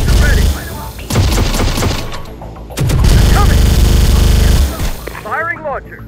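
A launcher fires during intense combat in the Terminator Dark Fate Defiance video game: loud, dense blasts and rattling gunfire roll almost continuously, with brief gaps and faint radio-like voice chatter at the end.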